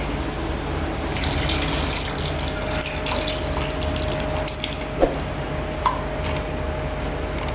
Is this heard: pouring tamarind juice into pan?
yes